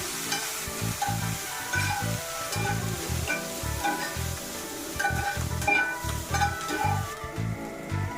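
Egg fried rice sizzles steadily in a pan greased with only a little oil and ghee as water is splashed in, a continuous close crackle with rhythmic stirring pulses.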